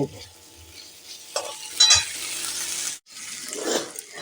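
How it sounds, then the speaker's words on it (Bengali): Spice masala for a turnip bharta sizzles in a pan over medium-low heat, with a spatula stirring through it, giving a close, bright hiss, one short break near the end and a swelling burst after it, with no voices. "মশলাটা আমাদের একদম কষে এসেছে"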